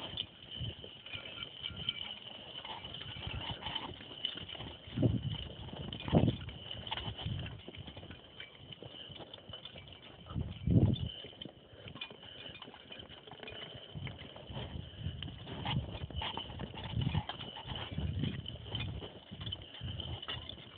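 Logging horses walk at Richards Castle, their hooves clip-clopping in an uneven rhythm at moderate distance over a steady rumble of background noise, with no talk.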